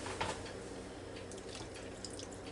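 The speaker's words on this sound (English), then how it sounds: "Gotta have a little milk in an omelet. So, pour a little bit of that in there." Milk poured into beaten omelet eggs in a bowl, heard as a soft, steady liquid trickle and dribble lasting a couple of seconds, faint and close with no talking.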